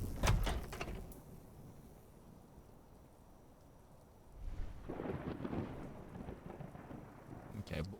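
Thunder rolls during a storm in a video game, a sharp crack at the start followed by lingering rain hiss, then a second long rumbling roll building midway, with no talk.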